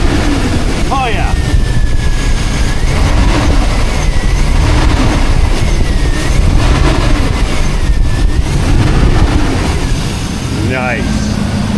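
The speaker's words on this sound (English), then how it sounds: "Let's give it some RPM. See if this fan sounds any different." Modified truck engine revving with its cooling fan running, a loud continuous roar with rising whining tones, steady and close throughout.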